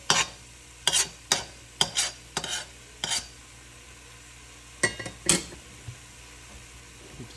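Lean ground beef in a pan for chili, raked and stirred with a utensil, a string of sharp close scrapes and clacks in uneven bursts over a quiet sizzle.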